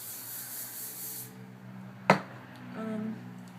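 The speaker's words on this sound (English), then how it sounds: "Lots of hairspray." Hairspray is sprayed onto hair while a pin-up beehive style is being set. A close, airy hiss lasts a little over a second, then stops, followed by a sharp click and faint handling noise.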